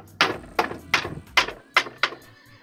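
Six evenly spaced hammer taps knock a wooden part of a Wittenham bench into place, each a sharp close knock with a short ring, about half a second apart, with no talk.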